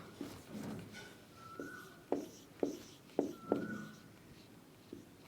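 Pen or marker writing the roots of a quadratic equation, a series of short scratchy strokes and taps in an uneven rhythm, close and fairly quiet with no talking.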